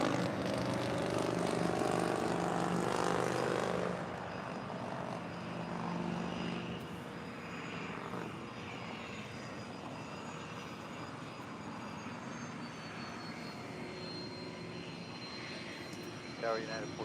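Delta Boeing 767-400ER jet airliner at Los Angeles airport, its engine roar loud and broad at first, then easing into a steadier, lower rumble, with radio or commentary voices running over it.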